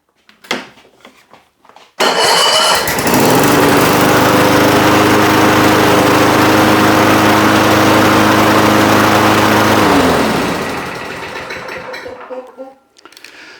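A Toro 6.5 HP walk-behind lawn mower fitted with a new Chinese carburetor starts after a couple of seconds and runs steadily at a loud, even roar, then drops to a slightly lower idle near the end.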